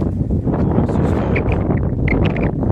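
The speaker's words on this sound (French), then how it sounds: "Il y a un vent pas possible." Strong wind buffets the microphone in a small hilltop village, a loud, continuous roar with gusty surges and no pauses.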